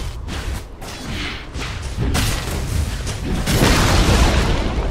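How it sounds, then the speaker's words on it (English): A Dota 2 tower collapses in a run of deep booms and thuds with whooshing debris, building louder toward the end, with no talk. "Dire's top tower has fallen."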